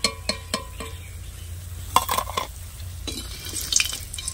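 Palm seed pakoras in frying oil being stirred and lifted out, a quiet background sizzle under clinks and scrapes of a utensil against the pan, with a cluster of taps near the middle and end.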